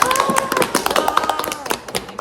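Rapid hand clapping from a small group, a dense patter of sharp claps running throughout at close range, with a faint voice underneath.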